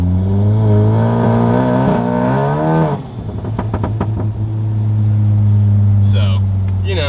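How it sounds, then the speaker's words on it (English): A turbocharged VW MK7 GTI on snow, a loud, steady engine drone that dips and surges with a brief rise in revs as the tires spin under throttle. "if I want to give it some gas or something like that, it's going to start spinning"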